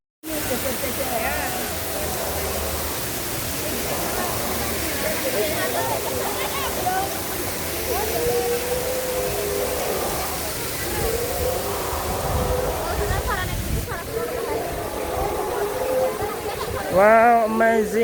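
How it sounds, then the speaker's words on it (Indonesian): Steady rushing water from an artificial waterfall runs throughout, with people talking over it and some brief higher-pitched calls near the end. "Ini ada air terjun"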